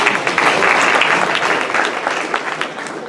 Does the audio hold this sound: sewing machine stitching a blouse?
no